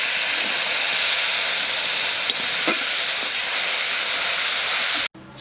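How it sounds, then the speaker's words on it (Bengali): Water poured into a hot pan of hilsa fish bursts into a loud, broad hiss of steam and sizzling that holds steady for about five seconds before cutting off abruptly. "একটু জল দিয়ে দেবো।"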